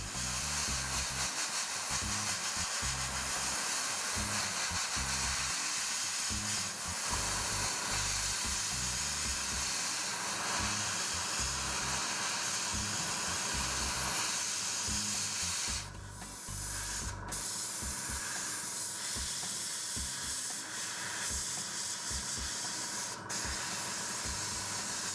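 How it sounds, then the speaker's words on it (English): An airbrush sprays RLM-02 paint onto the interior surfaces of an Eduard 1/72 Fw 190A-5 model kit, a continuous close hiss that runs steadily throughout, with a brief break and a couple of short interruptions. "Next, I sprayed on the RLM-02 for the interior surfaces."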